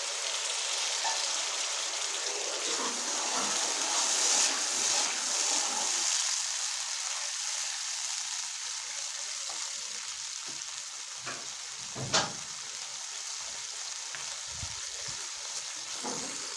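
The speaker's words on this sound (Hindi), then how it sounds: "अब हम इसमें थोड़ा सा पानी डालेंगे कि इसकी चाश भून जाए।" Water poured into sugar in a pan as syrup cooks for panjiri, giving a steady bubbling sizzle with soft stirring scrapes and a sharp clink near the end, no voices.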